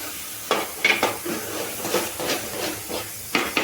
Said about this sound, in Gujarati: એ આપણે હવે ગાજરના હલવામાં નાખી દેવાનું છે અને આને મિક્સ કરી લેવાનું છે